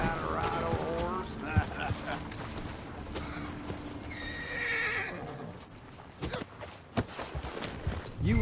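In a video game, horse hooves clip-clop along with a whinny, under near-constant character voices talking over the steady hoofbeats.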